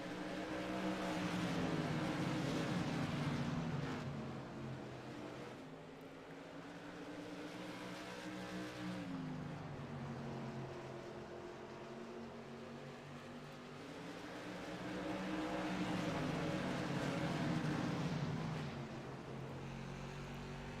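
Onboard an SK Modified race car, the number 88, lapping South Boston Speedway: a loud, continuous engine drone that swells and eases through the turns and straights, with wind rush and no talk.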